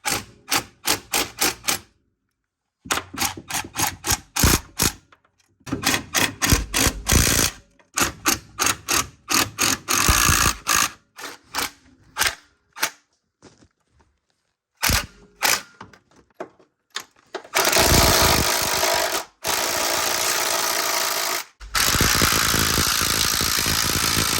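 Exhaust manifold bolts being tightened on a Dodge 5.7 Hemi, heard as loud bursts of rapid mechanical rattling from a power tool, broken by short silences, with longer sustained runs toward the end.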